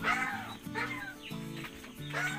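A native chicken on a backyard farm clucks in short, repeated bursts, close and moderately loud, over a steady low background hum.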